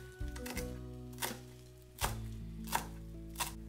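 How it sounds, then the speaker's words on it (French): Fresh coriander chopped with a knife on a board: several sharp, separate knife strikes spaced about a second apart, close but quiet, no voices. "Je coupe la coriandre."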